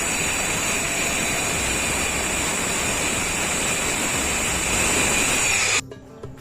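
Loud cutting machine used during a kitchen chimney installation, a continuous harsh roaring whine that runs steadily for several seconds, then cuts off abruptly, leaving quiet background noise.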